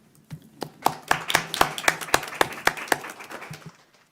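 Short burst of applause at a school board meeting, a dozen or so sharp, evenly spaced claps from a small group in a room, building briefly then tapering off after about three seconds.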